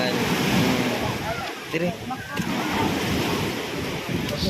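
Seaside waves roll and hiss steadily with some wind noise, while a voice speaks briefly over the surf.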